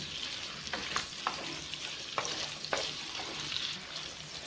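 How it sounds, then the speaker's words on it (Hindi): An onion-free curry base sautés in a pan over a low-to-medium flame, a soft, steady sizzle broken by a handful of light scraping stirs, close and fairly quiet with no talking. "लो टू मीडियम फ्लेम पर हम इसे सौते करेंगे।"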